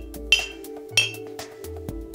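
Five glass bottles are struck one after another as a musical glass, each tap a bright clink with a ringing tone that lingers, all at nearly the same pitch, spaced unevenly and heard close with no talking.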